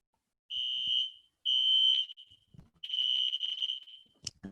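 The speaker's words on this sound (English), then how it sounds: "Okay, that's the fire alarm where I live." Home fire alarm sounding in three loud shrill piercing beeps of steady pitch, with short gaps, heard alone and slightly distant.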